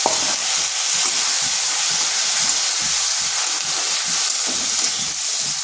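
Masoor lentils are stirred in a pan with ginger and garlic, giving a steady close sizzle and hiss with soft, repeated scraping strokes throughout.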